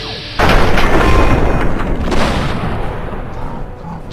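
A loud gunshot booms in the video game Fallout 3, one sharp blast followed by a long rumbling tail, then a second fainter crack toward the end.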